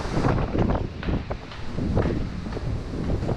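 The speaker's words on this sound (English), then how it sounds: "And it's windy, so that probably doesn't sound very good." Steady gusting wind buffets the microphone on an open cruise ship deck, a dense continuous roar with rough swells and no voices.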